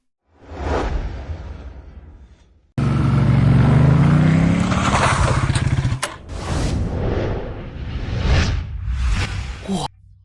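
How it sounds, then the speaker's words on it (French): A motorcycle engine revs and roars up close, loud and rising, with a whooshing pass; a short quieter stretch comes before it. "Cette moto est magnifique, ses lignes, le son du moteur."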